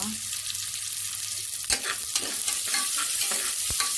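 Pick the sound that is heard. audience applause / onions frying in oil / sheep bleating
onions frying in oil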